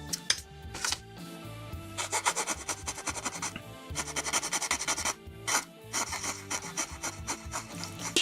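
Repeated rubbing and rasping strokes of sanding or filing on a plastic part of a 1/144 HG Bandai Gundam MSM-08 Zogok model kit, close and fairly loud, coming in uneven bursts with short pauses.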